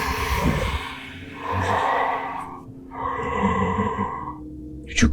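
A voice imitates heavy breathing at a tabletop role-playing session, producing slow, raspy drawn-out breaths in close succession, each a long hoarse exhale with brief pauses between, ending in a sharp sound.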